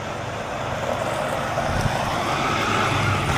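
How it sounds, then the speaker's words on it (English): A truck driving down a driveway gives a steady, broadband engine and tyre rumble that stays fairly loud and even throughout, with no voices. "Yeah, that's a nice truck."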